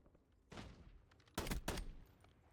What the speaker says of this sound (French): Ça tire dehors.